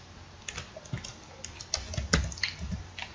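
Fast, irregular clicks of typing on a computer keyboard come through at moderate volume, entering month names into a Microsoft Excel attendance sheet. The key presses sound close and dry, with no speech over them.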